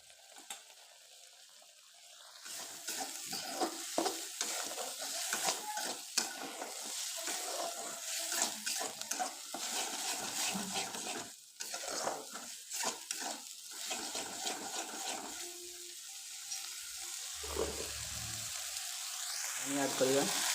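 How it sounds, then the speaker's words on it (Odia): Spice paste for a brinjal korma fries and sizzles in a pan with a little water, stirred steadily with scraping spoon strokes, fairly close and continuous, with a brief water splash near the end. "ଆଉ ଟିକେ ପାଣି ଦେଇକି ଭାଜିବା"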